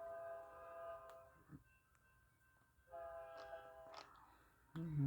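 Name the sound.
westbound train passing with horn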